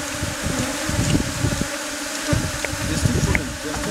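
Honey bees, including pollen-laden forage bees, hum in a dense, steady swarm buzz close by, with a brief quiet remark spoken over it.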